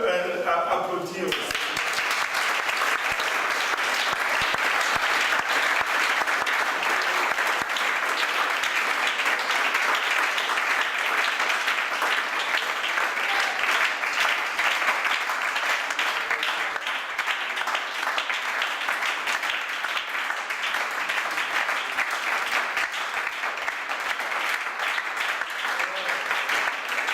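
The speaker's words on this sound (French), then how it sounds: "Est-ce qu'on peut applaudir?" An audience at a church talk breaks into applause, a dense, sustained wash of clapping that carries on steadily for nearly half a minute.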